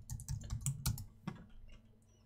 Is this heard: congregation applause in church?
no